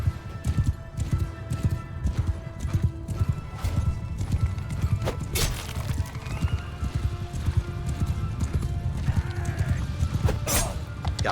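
Horses in a Mount & Blade 2: Bannerlord civil-war battle, rapid rhythmic hoofbeats galloping nearby with occasional whinnies and neighs over the clatter of combat.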